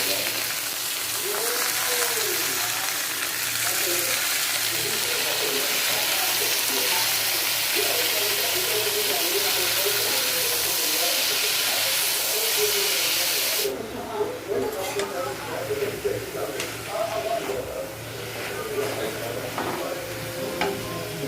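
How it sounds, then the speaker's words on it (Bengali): Leafy greens frying in a pan with garlic, onion and green chilli, a strong steady hiss and sizzle that softens after a while into quieter crackling and stirring, with a voice speaking faintly at times. "এই তো এখন আমি শাকটাকে ভেজে নিব, বসাই দিতেছি শাক।"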